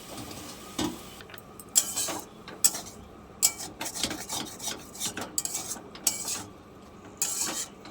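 Metal pan and utensils clink and clatter up close as a pan of cooked ghatkol leaf paste is lifted off the stove, with a string of sharp, irregular knocks over a quiet kitchen background.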